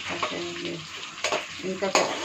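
Food for an egg curry sizzles and fries in a pan while someone stirs it, loud and close, with a few spoken words over the frying.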